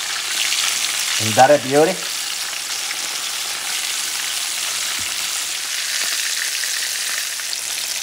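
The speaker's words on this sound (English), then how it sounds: "You have to make sure it's fried well, you know." Red snapper fries in a pan of hot oil with a steady, loud, close sizzle that continues throughout, while a voice briefly speaks early on.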